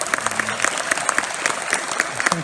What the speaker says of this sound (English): Let's have a round of applause for the Rev.